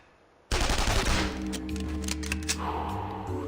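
Rapid gunfire erupts in the Counter Spy video game, a loud burst of automatic shots followed by continued rattling fire and ringing effects, with no talk over it.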